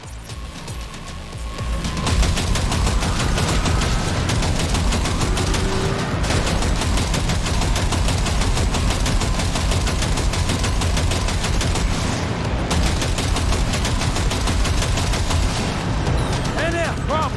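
Sustained heavy gunfire in the video game Cyberpunk 2077, a continuous loud rapid rattle of automatic weapons with booming impacts that runs almost unbroken throughout, no talk.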